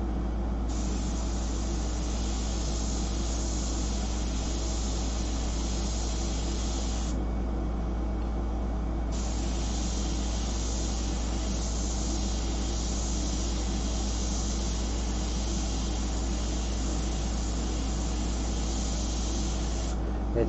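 Airbrush spraying paint onto a full-color fashion portrait, a steady close hiss running nearly the whole time with one short dip partway through, and no talking.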